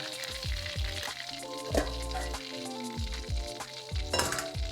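Beef frying in oil for Mongolian beef, a steady, busy sizzle with occasional stirring clinks and scrapes of utensils against the pan throughout.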